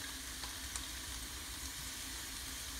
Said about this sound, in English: I'm gonna go ahead and start adding in the vegetables.